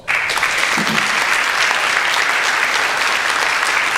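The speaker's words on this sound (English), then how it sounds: "Round of applause." A large audience breaks into loud, sustained applause that starts abruptly and continues steadily, a dense wash of clapping.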